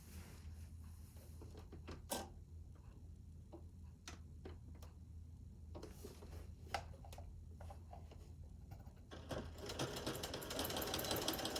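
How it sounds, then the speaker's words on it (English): A sewing machine stitches two quilt squares together: a faint low hum with scattered light ticks and taps, then a steadier rapid whirring at the end, recorded quietly with no voices. "Let's go to our machine and we will get our two squares. And we will sew these together."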